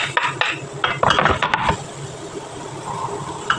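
Onions go into hot oil in a pan for a beef soup with noodles. A few clinks and scrapes of utensil on pan come first, then a steady, soft frying hiss continues alone.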